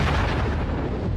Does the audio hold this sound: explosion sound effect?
yes